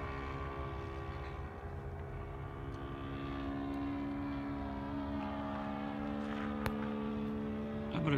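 A 104-inch Dynaflite Super Cub RC airplane in flight gives off a steady, even buzzing engine drone that holds continuously throughout, with no talk over it.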